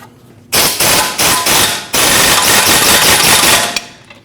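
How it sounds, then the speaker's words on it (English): Sharp metal hammer blows ring out as a rear lower control arm on a 2014-2023 Jeep Cherokee is tapped to line up a bolt. Several loud, close strikes come in quick succession, then run into a sustained clatter. "Might have to give that control arm a little tap to get your bolt through"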